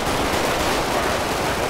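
Rapid gunfire in a police foot chase after an armed suspect, a dense, loud, continuous burst of shots filling the whole moment with no talk over it.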